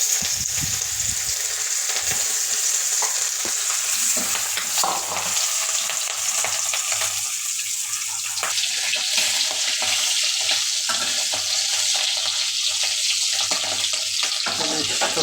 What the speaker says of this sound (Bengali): তেলটা গরম হয়ে গেছে এখন মাছ ছাড়া হবে